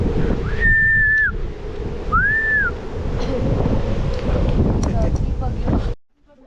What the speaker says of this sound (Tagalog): sumisipol yung hangin